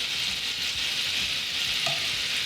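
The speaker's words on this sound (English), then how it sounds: "now our sauce is boiling" Ponzu dashi sauce bubbles in a hot pan, a constant close sizzling hiss with faint popping underneath, even in level and with no one speaking.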